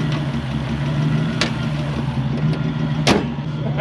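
A Gen 2 Toyota 4Runner with a 1UZ V8 engine swap and a solid front end runs close by with a steady engine rumble as it sets off. A few sharp clunks and knocks break through the drone.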